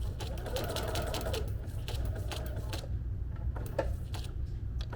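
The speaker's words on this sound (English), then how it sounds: "Lower the presser foot and sew." A sewing machine stitches along a straight line on fabric, giving a steady mechanical hum with rapid repeated needle ticks that carry on for the whole stretch without talk.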